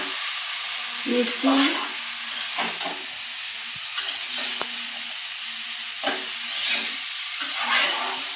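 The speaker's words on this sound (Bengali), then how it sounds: "সবজি দিয়ে দেব, দিয়ে একটু নাড়াচাড়া করে" Mixed vegetables being stirred while frying with dried fish, loud close sizzling broken by repeated scraping and clattering spatula strokes in an uneven rhythm, with a brief spoken word.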